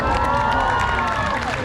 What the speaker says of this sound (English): how about a big round of applause for Mishka?